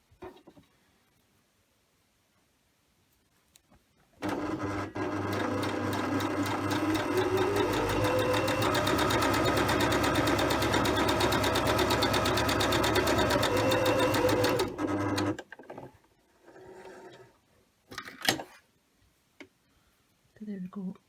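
A Husqvarna Emerald 118 sewing machine stitches a very narrow zigzag on fabric, running as a steady, loud, fast mechanical whir for about ten seconds before stopping, with brief talk and handling noises after.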